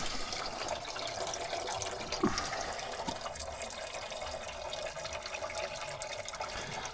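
Water rushes steadily through a Triumph Stag's cooling system during a coolant flush, a constant hissing gurgle with a brief knock partway through and no talking.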